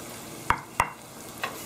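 A spoon stirs squished fresh herbs in hot ghee, giving three brief scraping clinks spaced apart over a soft, steady sizzle, with no talking.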